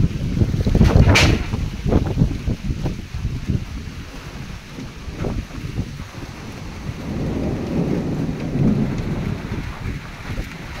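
Heavy typhoon rain pours steadily onto surfaces, with a sharp crack and rumble of thunder early on, then a continuous dense roar of rainfall.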